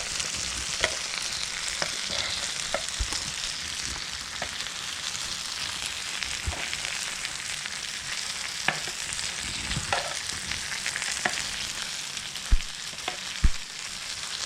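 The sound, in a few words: mayo chicken wings sizzling on George Foreman grill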